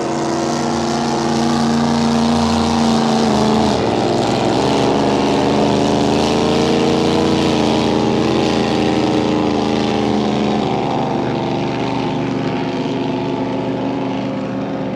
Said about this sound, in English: We are spoiled for blown boats here at this meeting